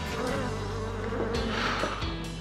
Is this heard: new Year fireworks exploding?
no